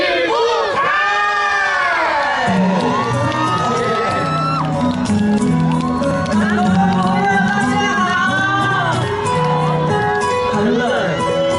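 An outdoor concert crowd at a Lantern Festival show in Nantou, Taiwan, cheers, whoops and screams loudly and continuously, with high shrieks and overlapping voices as a singer is welcomed to the stage.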